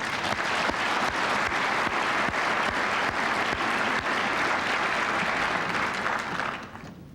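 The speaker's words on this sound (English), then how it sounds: "could we have one more round of applause, both for John and his staff?" Sustained, dense applause from a conference audience at an annual actuarial society meeting, loud and steady for about six seconds before tapering off at the end.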